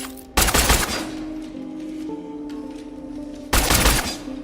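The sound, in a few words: gunfire from a video game weapon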